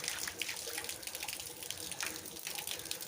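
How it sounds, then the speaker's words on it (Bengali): Rainwater pours steadily onto a flooded rooftop, splashing continuously in a close, busy wash with small irregular spatters and drips over the constant rush. "এখানে জল চর্চা শব্দে পড়েই যাচ্ছে।"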